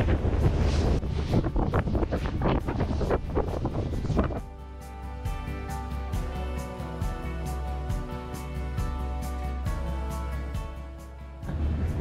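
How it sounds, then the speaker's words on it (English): Strong wind roars and buffets a microphone at the front of a boat off Vancouver Island, a loud gusty rush that eases midway into a steadier hum of the engine and water. "Proper windy."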